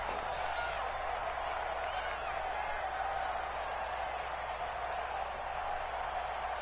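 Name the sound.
stadium crowd cheering in Madden 20 video game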